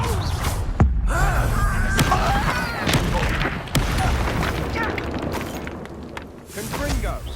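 Fire-blast spell bursts in Hogwarts Legacy combat, several booming blasts and impacts spread across a busy battle mix with character voices shouting over them.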